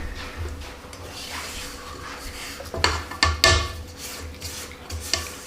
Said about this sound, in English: Let's go ahead and stop it so we can scrape the sides down.